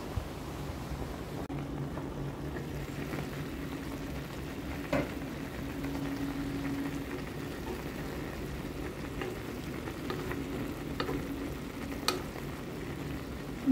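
Salmon belly cooking with bitter gourd in a pan sizzles and frizzles steadily and close up, with occasional clicks and scrapes of stirring over the continuous hiss.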